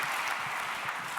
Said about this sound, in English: Please, another applause.